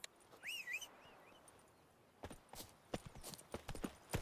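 Roach the horse trots in The Witcher 3 video game, with a brief whinny followed by a quick rhythmic clip-clop of hooves, fairly quiet and clear with no talking over it.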